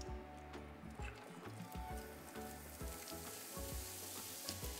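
Onions fry over low to medium heat in a pan for a fish curry, giving a steady, soft sizzle with faint crackles and a low hum underneath.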